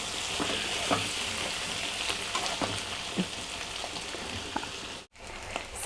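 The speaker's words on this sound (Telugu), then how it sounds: "ఇది కొంచెంసేపు బాగా కొద్దిగా ఫ్రై కావాలండి" Baby potatoes fry in a pan with a dense, continuous sizzle and crackle, close and fairly loud, with occasional stirring clinks and a brief dropout near the end.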